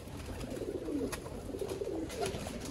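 Red-eyed fancy pigeons in a hobbyist's loft in Shadiwal, Gujarat, coo in low, rolling phrases that repeat over a steady background hum; a few sharp clicks stand out.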